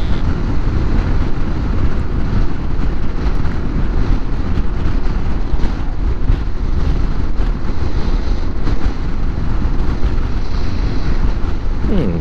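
Wind roars against the microphone while riding a touring-equipped Honda ADV 160 scooter on a hot morning, a loud, continuous buffeting over a low engine drone, with no talking.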